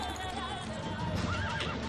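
A horse in Witcher 3 lets out a whinny with a wavering, rising-and-falling pitch, fairly close, over game background noise and faint hoof clip-clop.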